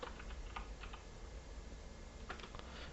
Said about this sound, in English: So here now, within our main console app, we are going to type